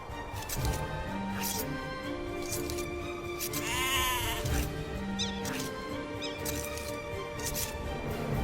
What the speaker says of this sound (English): Forage bushes and sheep are both excellent sources of food.